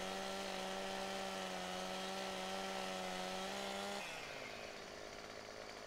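A chainsaw felling a tree in Farming Simulator 2015, a loud steady engine whine with strong harmonic tones that drops to a lower rough idle after about four seconds, with no talking.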